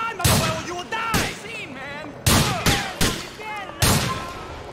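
Shotgun blasts in Grand Theft Auto 4, five or six loud booming shots spaced about a second apart, with game characters shouting over and between them.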